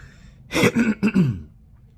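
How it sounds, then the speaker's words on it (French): A single close, loud throaty cough, a short harsh burst breaking into a couple of rough bursts, with no talking. "Veuillez m'excuser, j'ai un peu de la toux."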